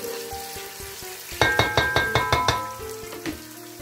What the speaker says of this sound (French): Donc je vais frire mes oignons jusqu'à ce qu'ils aient une couleur translucide.